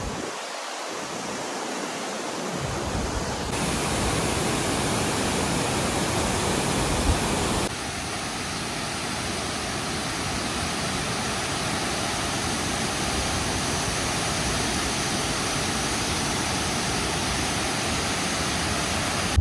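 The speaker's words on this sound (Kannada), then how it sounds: "ಈ ವಾಟರ್ ಫಾಲ್ಸ್ ಬಂದು ಈ ಥರ ರೋಡಿಗೆ ಇದೆ." Athirapally waterfall in Kerala roars as a loud, steady broadband rush of falling water, heard close and alone without voices, with a slight shift in tone partway through.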